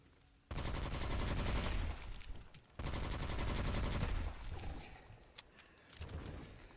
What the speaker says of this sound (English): The other thing I don't like about this gun is just the sound that it makes.